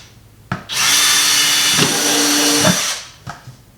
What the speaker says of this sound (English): take your drill, and drill in basically between 15 and 20 dispersed all over the bottom of this bucket here